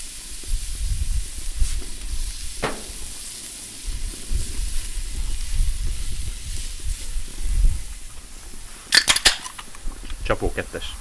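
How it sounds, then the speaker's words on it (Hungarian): Chopped onion frying in a pan for a Sloppy Joe sandwich, giving a soft steady sizzle beneath intermittent talk, with a few sharp utensil clinks and scrapes near the end. "most kezd jó pirulni a hagyma"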